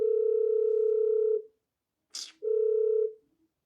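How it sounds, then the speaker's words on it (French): A phone rings with an incoming call, sounding two long, steady electronic tones separated by a brief noisy burst, close and fairly loud. "On m'appelle toujours quand je suis en live."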